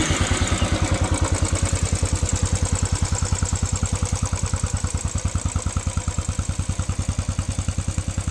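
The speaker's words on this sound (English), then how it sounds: "I can fire it up and let her idle. It's awful quiet actually" A Royal Enfield Classic 500 EFI pushrod single-cylinder motorcycle idles steadily up close, its even, rapid thumping pulse running throughout with valve clatter layered on top and no voices.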